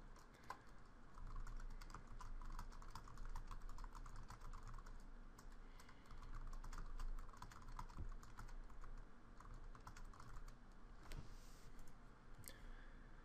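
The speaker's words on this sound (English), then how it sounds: "type backslash item, and type the text that you want on that bullet point" Keys clatter on a computer keyboard in a steady, quiet stream of close clicks and taps, with brief pauses and a couple of sharper strokes, no voices.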